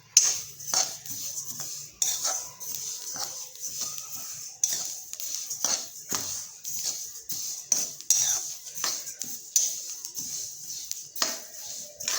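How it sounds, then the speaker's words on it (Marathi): Rapid, irregular crackling and popping of sesame seeds roasting in a hot wok over a low gas flame, with scraping clinks of a utensil against metal; steady and close. "आता आपण हे तीळ भाजून घेऊ"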